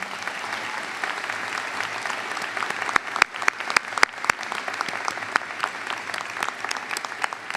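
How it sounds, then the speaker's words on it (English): A large crowd applauds steadily at a school commencement ceremony, with a dense, even wash of clapping and a few sharper individual claps standing out near the middle. "I think it's time for a round of applause for those people."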